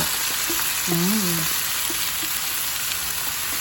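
Boiled unripe jackfruit sautéing in a hot pan, a loud continuous sizzle close up, with a brief tonal squeak partway through and no speech.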